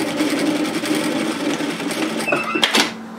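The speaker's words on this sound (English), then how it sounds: "we're just going to top stitch that closed through the edge" A sewing machine top-stitches closed the fabric edge of a reusable four-cup takeaway coffee holder bag, running steadily at close range for about three seconds with a brief change in tone near the end.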